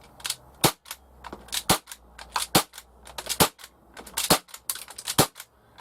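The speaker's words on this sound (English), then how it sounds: "let's fire off the very first shot of this cartridge, which is going to give us the best flame effect" Umarex H&K MP5K CO2 6mm airsoft gun firing a rapid string of sharp, loud cracks in irregular bursts, about a dozen shots over several seconds with no talking.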